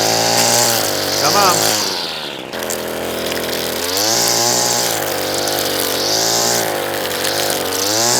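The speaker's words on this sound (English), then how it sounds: "Then I'm going to string trim right where that fence was." A string trimmer cuts grass along a fence line, its small engine whining loudly and revving up and down in repeated surges, with a brief spoken word partway through.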